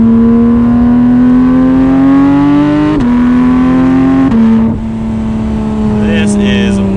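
Porsche 911 GT3 engine droning steadily while driving, pitch climbing gradually with brief dips at gear changes; loud and close, with a person talking over it.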